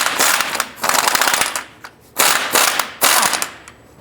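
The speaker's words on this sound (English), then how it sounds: "Using a 22mm socket, we're going to go ahead and loosen this lower ball joint nut." Pneumatic impact wrench with a 22mm socket loosens the lower ball joint nut on a 2005-10 Jeep Grand Cherokee, firing three loud, close rattling bursts separated by short pauses.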